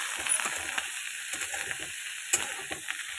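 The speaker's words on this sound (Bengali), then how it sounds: "একটু দেবো হলুদ, দিয়ে এটাকে নাড়িয়ে দেবো ভালো করে।" Spiced food with turmeric sizzles steadily in a hot pan while a utensil scrapes and stirs in soft, irregular strokes; close and fairly quiet.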